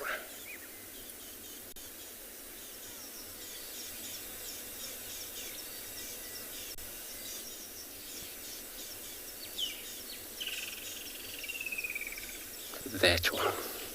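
A lilac-breasted roller calls faintly from a distance on an early morning safari drive, its brief harsh notes rising late over a low hum, with insects and other birds chirping softly.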